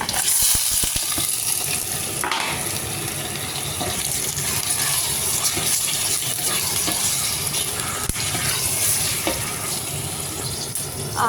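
Chicken pieces frying in a hot pan for an Indian-style chicken curry, a loud continuous sizzle with stirring and clattering, close and without talk.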